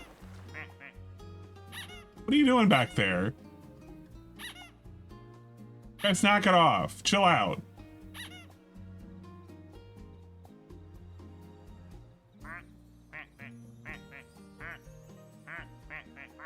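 Ducks quacking and squeaking in loud, repeated bursts around 2–3 and 6–7.5 seconds, with softer calls later, heard alongside someone speaking over a low background bed.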